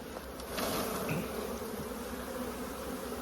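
Dense insect buzzing from many bees fills the clip steadily, a close, continuous drone with no voices.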